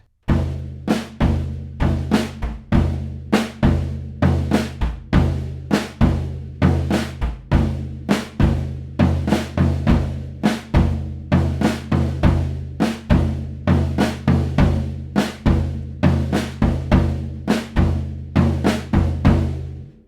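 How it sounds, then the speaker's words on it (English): A steady drum groove with punchy, resonant double stops on the toms landing in quick doubled strokes, driven by a regular kick and loud, even pulse. "We're doing some things playing double stops on the toms."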